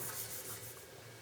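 600-grit sandpaper is rubbed across a small titanium pendant, a brief, close, raspy scratching stroke.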